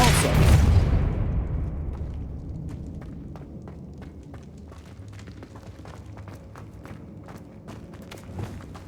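The Depulso spell in Hogwarts Legacy opens with a loud blast-like burst that fades into a long decay, followed by scattered footsteps and light clatter.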